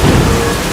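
Heavy rain with a low rumble of thunder in a monsoon-season downpour, a loud, dense wash of noise filling a brief moment with no voices.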